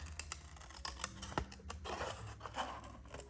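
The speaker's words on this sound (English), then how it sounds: "we'll put some scissors on the cart. But we're going to cut these out." Scissors snipping paper up close, a series of short crisp cuts in an uneven rhythm, quiet with no talking.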